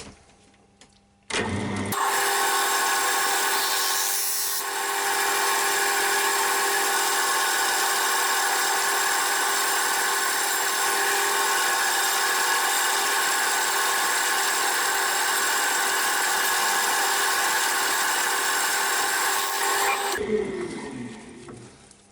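An ash bowl spins on a wood lathe while a wax stick is pressed against it, making a loud, steady motor whine and hum that starts abruptly, runs unbroken for nearly twenty seconds, then winds down.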